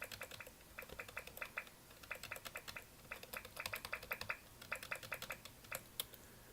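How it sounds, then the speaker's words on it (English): Keys on a Mac keyboard clicked in quick irregular bursts, crisp and close, tapping in short runs with brief pauses between them against a quiet background. "I will click the sound buttons on my keyboard"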